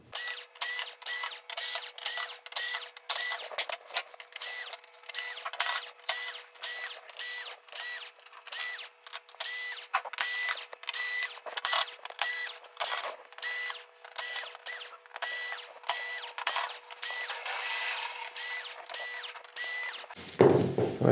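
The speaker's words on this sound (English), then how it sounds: "We just honestly have to work on getting all these screws out." A power drill backs screws out of the rear panel of a Toshiba 46SL417U flat-screen TV, giving a long run of rapid, repeated whirring bursts with short pauses between screws, close and steady, with no talking.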